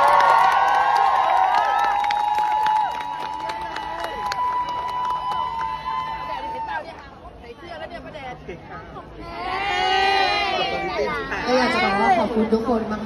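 Fans at a fan event cheer and shout in a loud, sustained crowd roar, with chatter and excited voices rising again in a second burst of cheering near the end.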